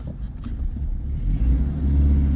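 A 1984 Dodge Rampage 2.2 five-speed pickup pulls away, its engine a steady low rumble that swells louder as it drives off, with no one talking.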